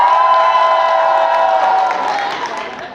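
Cheering, whooping and applause from a large crowd fill a graduation ceremony hall at the Palais des congrès, loud and sustained throughout, with no clear speech.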